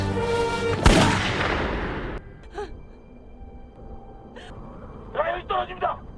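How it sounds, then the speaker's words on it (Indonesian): A single loud gunshot rings out in an action film scene with a helicopter, a sharp close blast followed by its decay, then breaths and gasps from voices in the scene. "Yong-hye terpaksa menembak Rian karena hampir akan menjatuhkan suaminya dari atas heli"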